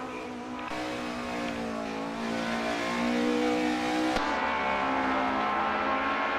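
Race car drifting in a racing game, its engine holding a loud sustained rev with shifting harmonic pitch and a brief gear change midway, with tire squeal mixed under the continuous roar.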